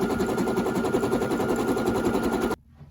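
An embroidery machine stitching a towel, running with a steady fast mechanical rattle that stops abruptly near the end, leaving near silence.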